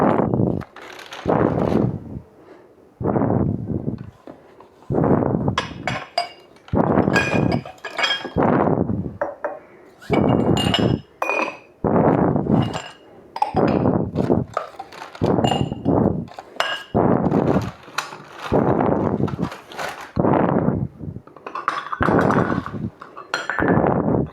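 A drinking glass is handled and set down repeatedly, giving sharp clinks and knocks in a busy, irregular series of bursts heard close up.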